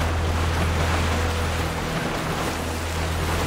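Wading through water in the video game In Sound Mind, a loud, continuous sloshing and rushing wash with a low rumble underneath, steady throughout without speech.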